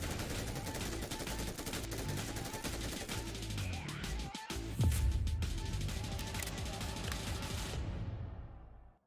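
An MG3 machine gun firing 7.62mm rounds in the mobile game New State Mobile, a steady rapid stream of shots sustained close and loud for most of the stretch before cutting off abruptly.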